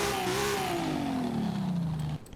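A 2JZ engine in a small Toyota Celica in Forza Horizon 5 revs steadily as its pitch slides gradually downward, loud and alone, before cutting off abruptly near the end.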